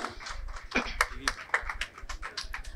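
Scattered clapping from an audience at an art exhibition seminar, a handful of sharp claps spread irregularly, with a voice talking over them.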